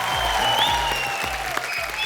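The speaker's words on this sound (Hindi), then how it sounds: "एक बार जोरदार तालियां मिस्टर शाहरुख खान एंड आलिया भट्ट के लिए।" Studio audience at The Kapil Sharma Show applauding Shah Rukh Khan and Alia Bhatt: steady, dense clapping fills the room throughout, with low rhythmic music thumping underneath.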